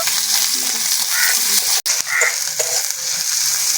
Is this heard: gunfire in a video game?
no